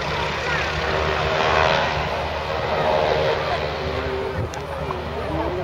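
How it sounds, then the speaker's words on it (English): Breitling wingwalker propeller aeroplanes flying in close formation at the Shoreham airshow, a steady loud engine drone with a broad roar that swells and fades slightly, with faint crowd murmur beneath. "as the pilots attempt to keep the aeroplanes near to each other"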